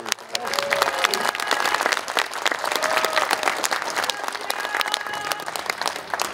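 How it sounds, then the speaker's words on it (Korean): Concert audience applauding a tenor and two sopranos at a presidential commemorative concert, dense sharp clapping from many hands filling the hall steadily and evenly throughout. "우리 신동원 테너 그리고 김은경 소프라노 박지원 씨에게 다시 한번 큰 박수를 부탁드립니다"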